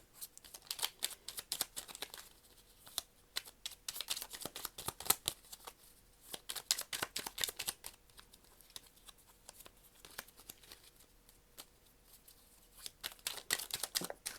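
A deck of angel oracle cards is shuffled by hand, a close, quiet, continuous run of riffling card flicks and soft patters lasting the whole stretch.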